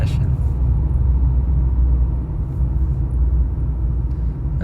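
An old Mercedes car that is overheating and failing runs with its engine humming as a steady, loud low rumble that continues throughout, with no pauses.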